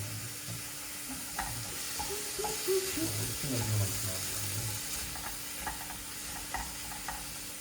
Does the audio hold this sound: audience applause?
no